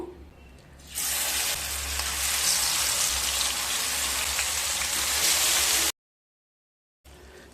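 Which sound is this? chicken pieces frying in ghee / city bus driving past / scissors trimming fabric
chicken pieces frying in ghee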